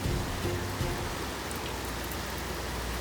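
Rain falls steadily on an Arctic camper build site after sunset, a constant soft hiss of drops with a low rumble underneath, even and unbroken throughout.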